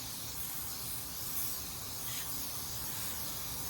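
A paint spray gun hisses in a steady, close burst of fine spray as it makes a single pass over a sealer edge in a paint booth, alone without voices.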